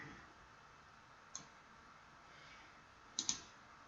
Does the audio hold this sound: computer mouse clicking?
yes